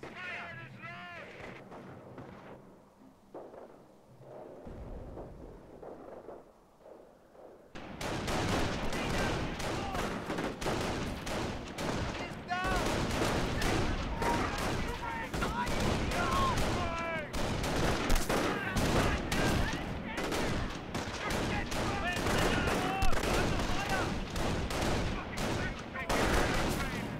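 Dense small arms gunfire and heavier bursts fill a war video game battle at a contested bridge, starting quieter then erupting into loud, continuous rattling volleys with faint voices mixed in.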